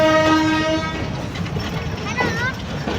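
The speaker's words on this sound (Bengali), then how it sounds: "ট্রেন আমাদের কিন্তু ছেড়ে দিয়েছে।" A moving local train heading toward Parbatipur, in rural Rangpur, Bangladesh, gives a loud close rumble with clattering wheels, and a tonal horn-like toot sounds early on. Someone talks over the noise throughout.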